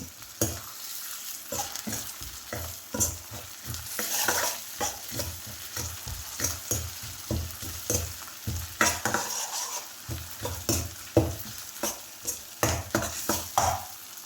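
Crushed ginger sautés in a pan as a spatula stirs it repeatedly, rhythmic scraping and clinking strokes over a continuous sizzle, close and clear.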